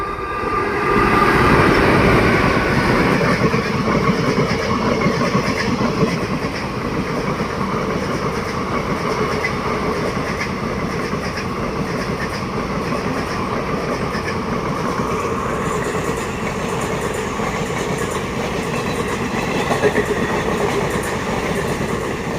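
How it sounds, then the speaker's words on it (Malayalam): Executive Express 16308 from Kannur to Alappuzha rolls into Vellayil station with a loud, steady roar and rumble of wheels on rails that stays close and continuous throughout. "കണ്ണൂരിൽ നിന്നും ആലപ്പുഴയിലോട്ട് പോയിക്കൊണ്ട് നിൽക്കുന്ന എക്സിക്യൂട്ടീവ് എക്സ്പ്രസ് ആണ് ഇതാ വന്നുകൊണ്ട് നിൽക്കുന്നത്"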